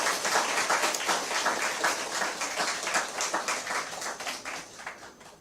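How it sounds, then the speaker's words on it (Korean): An audience in a church claps after a violin performance. The applause is dense and sustained with a rhythmic pulse at moderate loudness, and it slowly fades toward the end. "다시 한번 큰 박수 부탁합니다."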